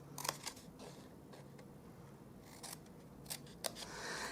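Quiet snips of scissors cutting cardstock along a score line for a paper Easter basket, a series of faint, sharp clicks and rasps spread irregularly over a soft background.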